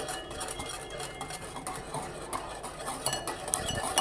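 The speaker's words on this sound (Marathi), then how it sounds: "पिठी साखर ॲड करायची आणि हे व्यवस्थित मिक्स करून घ्यायचं" A utensil scrapes and clinks steadily against a bowl while powdered sugar is stirred into a milk mixture for kharvas, a soft, close, rhythmic mixing with no talking.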